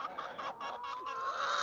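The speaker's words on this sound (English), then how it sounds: "Here's Mr. Rooster right here" A rooster clucks close by in a backyard flock, a rapid series of short, throaty clucks running together over busy outdoor background noise, with no talk.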